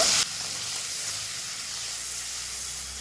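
Mustard and tomato spice paste with turmeric sizzling and frying in a pan for a fish curry, a steady close hiss after a brief louder burst at the start.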